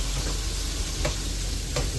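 Garlic frying in a pan gives a steady, even sizzle throughout, with a few faint stirring scrapes over the hiss.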